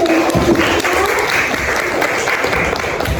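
Applause from a crowd at a school talk show event in a hall, dense steady clapping sustained throughout, fairly loud and close.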